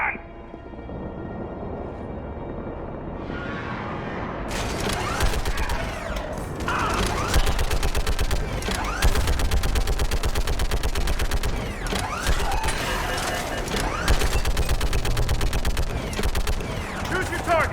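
A heavy mounted gun hammers away at hostiles in Mass Effect 3, loud sustained bursts with booming impacts and a battle din, while voices call out over the shooting.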